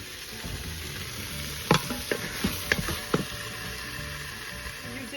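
Tomato paste sautéing in an Instant Pot gives a soft, steady sizzle, broken by several distinct scrapes and clacks of a spoon stirring at close range, with no talk.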